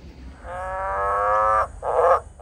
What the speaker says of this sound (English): Green and golden bell frogs.